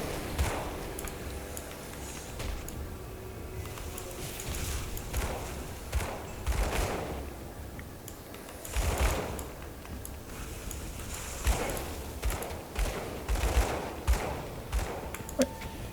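Gunfire rips through zombies in the action RPG Grim Dawn as rapid bursts of shots and impacts, loud and sustained, with short pauses between the volleys.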